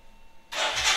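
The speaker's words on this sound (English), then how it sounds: "The next day morning, what you can do is you can start the bike" A Royal Enfield Himalayan motorcycle engine starting: a quiet half-second, then the engine abruptly catches and rises into a loud, steady running roar up close.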